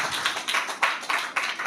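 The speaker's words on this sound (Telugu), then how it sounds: "గట్టిగా చప్పట్లు కొట్టండి" A congregation at a church sermon claps, with distinct, fairly quiet hand claps arriving in loose irregular bursts rather than a continuous roar.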